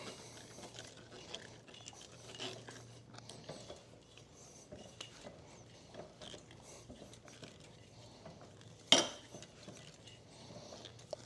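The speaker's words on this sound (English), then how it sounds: "This jack is mechanically designed to be fairly easy, and so you just keep going." A car jack cranked by hand to raise a vehicle for a flat tire change, giving faint, repeated metallic ratcheting clicks at an uneven pace, with one sharper clank near the end and no voices.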